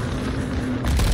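A proximity mine detonates in Modern Warfare II gameplay, a loud, dense boom that swells at the end amid the continuous roar of combat.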